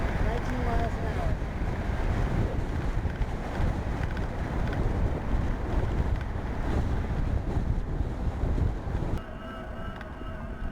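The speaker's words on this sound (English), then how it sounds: "I'm going against the wind." Strong headwind buffeting the microphone of an e-bike rider moving at about 19 mph, a loud constant roaring rumble that fills the whole clip and eases slightly near the end.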